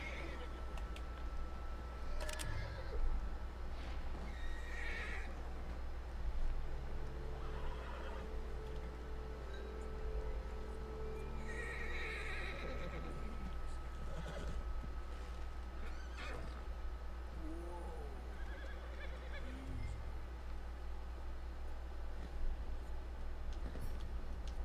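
A horse in Red Dead Redemption 2 whinnies and neighs several times over steady hoof clip-clop and a low background hum, with faint voices now and then.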